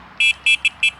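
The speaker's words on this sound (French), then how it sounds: "Et regardez le petit klaxon très original." Horn of a Mokwheel electric bike sounding four short, loud electronic beeps in a quick uneven rhythm, a bright buzzy tone, close by and alone.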